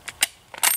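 Sharp rifle shots fired outdoors at a pond, likely from a 1909 Mauser or a .22 Marlin, with two quick close cracks, a pause, then a louder report with a brief ringing tail.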